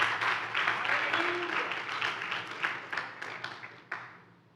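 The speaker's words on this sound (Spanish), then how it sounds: "Denle palmas a Cristo, dejémoslo hasta ahí." Church congregation applauding for Christ during a sermon: a dense wash of clapping that thins into scattered individual claps and fades out near the end.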